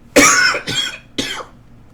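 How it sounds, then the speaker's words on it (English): Three loud, harsh coughs close by, the first the strongest, followed by two shorter ones in quick succession. "coughing was not part of the plan"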